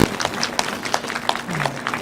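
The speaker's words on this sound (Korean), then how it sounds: "뜨거운 박수 보내주시기 바랍니다" Applause from the crowd at a candlelight protest rally outside the Saenuri Party headquarters, scattered clapping with rhythmic bursts under a faint voice and background crowd noise.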